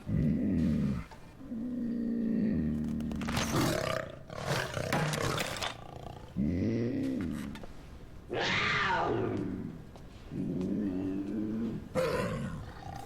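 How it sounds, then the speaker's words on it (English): Puma roaring in a string of loud, growling bursts separated by short pauses, close and dominant with no talk. "What's your kitty's name? It's a puma."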